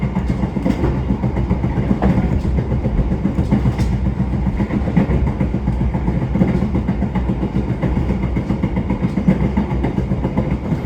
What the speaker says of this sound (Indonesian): Kereta Arjuno Express sudah meninggalkan kota Malang